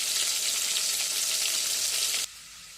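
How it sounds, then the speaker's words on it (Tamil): Crab pieces frying in hot oil give a steady, loud, dense sizzle that runs unbroken and then drops suddenly to a much quieter hiss near the end. "நண்டு நல்லா நிறம் மாறி இப்போ எண்ணெயில் சூப்பராக ஃப்ரை ஆகிடுச்சு ஃப்ரெண்ட்ஸ்."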